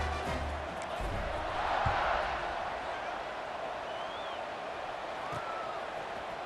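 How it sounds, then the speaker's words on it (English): Stadium crowd in the College Football 26 video game, a steady dense roar of fans that swells briefly and then holds, buzzing continuously after a score. "this crowd is buzzing after that last score"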